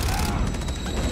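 A Semtex grenade goes off in a Call of Duty game, a loud close blast with rumbling low end followed by crackling gunfire and chaotic battle noise.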